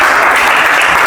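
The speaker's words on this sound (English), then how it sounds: "Give Srivatsan a big round of applause" A brief, dense burst of steady audience clapping in a public speaking class, loud and even throughout.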